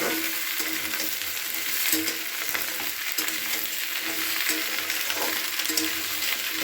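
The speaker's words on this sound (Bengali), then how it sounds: "কেটে রাখা সমস্ত সবজিগুলো আমি এখানে দিয়ে দিলাম দিয়ে খুব ভালো করে আমি নাড়াচাড়া করে মিশিয়ে নিচ্ছি" Chopped vegetables fry for an Amudi small-fish curry, giving a dense, even sizzle close up, with soft periodic scrapes of stirring throughout.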